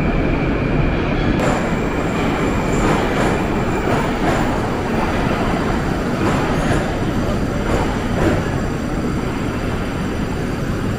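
A loud, continuous rumble of a Moscow metro train, with rolling wheel noise and faint squeals echoing in an enclosed underground station.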